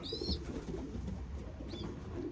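Racing pigeons, young birds readied for a one-loft race, coo softly and repeatedly, a low throaty murmur over a steady outdoor background, with a couple of higher bird chirps.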